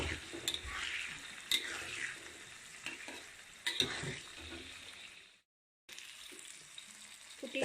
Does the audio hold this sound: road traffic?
no